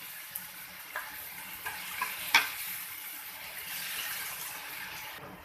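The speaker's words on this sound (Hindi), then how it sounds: "अब हमने इसके अंदर अरवी डाल देनी है और फिर इसको अच्छे से भून लेना है।" Taro root (arbi) fries in a yogurt masala with a soft, continuous sizzle, and a handful of light ticks and scrapes from the utensil come early on.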